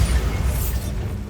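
A Bombarda explosion spell from Hogwarts Legacy goes off in a short, loud, rumbling blast with a hissing burst at its peak, fading quickly.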